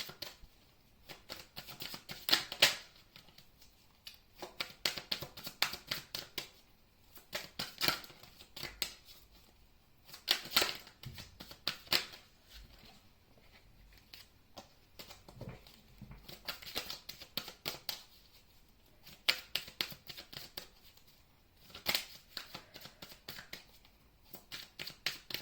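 Tarot cards shuffled and drawn by hand in quiet repeated bursts of papery flicking and rustling, each flurry a few seconds long, close and soft with pauses between.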